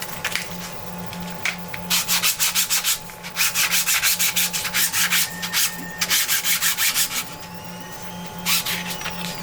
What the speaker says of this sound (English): so I'm only just gonna sand these 2 bits.